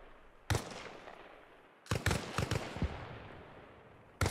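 Gunfire in the video game Arma Reforger: a sharp, loud single shot, then a quick cluster of about five shots in an uneven burst, and one more lone crack near the end, with quiet gaps between.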